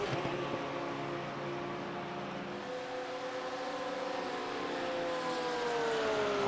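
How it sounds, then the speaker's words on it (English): Several Porsche race cars in the iRacing sim, racing at Daytona in a GT Masters event, drone past in a continuous loud blend of engine tones, their pitches sliding and overlapping as they pass, with no talk. "Oh, the sound of those cars razzing by is brilliant"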